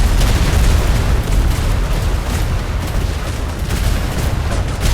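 Ship cannons on a naval vessel in a Garry's Mod pirate-era roleplay battle, a dense continuous rumble of booming blasts that stays loud throughout, with no clear talk.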